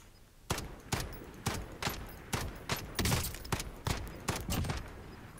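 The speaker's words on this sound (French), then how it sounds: "Il me vise au sniper." Sniper rifle gunfire in Call of Duty Warzone: about ten sharp, loud shots at a steady rhythm of roughly two per second, each with a short crack and echoing tail, with no talking.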